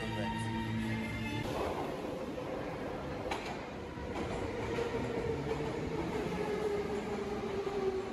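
An old Moscow metro train rumbles steadily along the track, heard from on board with a constant loud roar and faint rattling over the whole stretch.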